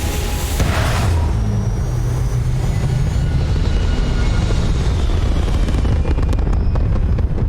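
Steady, loud roaring rumble of a spaceship taking off in Starfield, a continuous engine drone with a brief hiss early on and sharp crackles toward the end.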